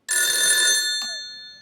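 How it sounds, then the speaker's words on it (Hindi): A telephone rings in a studio comedy show setting, a single bright electronic ring starting abruptly, sustained loudly, then a brief second pulse as it fades. "एक सेकंड में अपने दोस्त को फोन लगाता हूँ"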